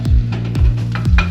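Poblano peppers, also called pasillas, sizzle steadily in a hot pan, a close, constant frying hiss broken every half second or so by low scraping thumps of stirring.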